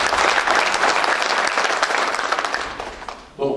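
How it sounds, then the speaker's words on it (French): Audience applause at the closing ceremony of an academic conference, a dense, steady burst of clapping from a seated crowd that fades out, with a voice starting to speak at the very end. "Je vous demande de les applaudir."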